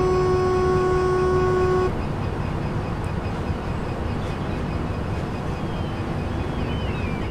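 A Class 66 diesel locomotive horn in Train Sim World 2020 sounds one loud, steady chord for about two seconds, then cuts off, leaving the locomotive's engine rumbling on, with no talk.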